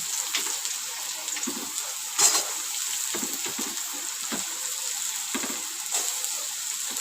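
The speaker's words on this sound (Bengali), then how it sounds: "এবার এর মধ্যে আমি যে কুচিয়ে রাখা গাজরগুলো আমি দিয়ে দেবো" Chopped carrots fry in hot oil in a pan for an egg pasta dish, giving a steady close hiss with faint scattered crackles and a small pop or two.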